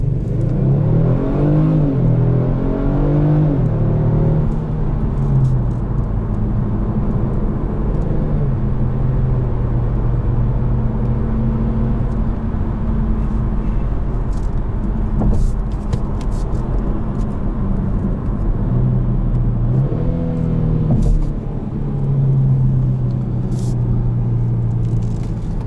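2021 Kia Stinger GT accelerating hard out of a corner, a loud sustained engine drone rising and dipping with gear changes, heard from inside the cabin.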